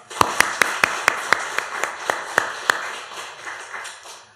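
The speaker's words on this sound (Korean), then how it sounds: "115년 동안 우리 성결교단을 지켜주시고 보호해주신 하나님께 영광의 박수. 시작." Church congregation at a Korean Holiness church Sunday evening service, clapping together in a quick, even rhythm: about ten sharp, loud unison claps, then softer, looser claps trailing off.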